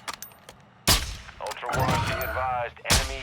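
Sharp bursts of Call of Duty Warzone DMZ gunfire, a few separate shots with loud cracks and ringing tails, alongside some in-game sound effects.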